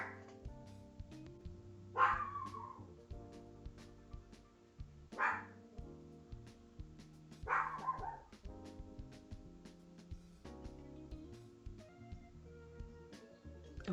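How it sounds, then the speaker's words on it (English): A dog barks in three or four short, sharp bursts spaced a few seconds apart, fairly close and moderately loud, over a quiet indoor background with a faint tonal hum. "Okay, Emily, you're gonna start barking now?"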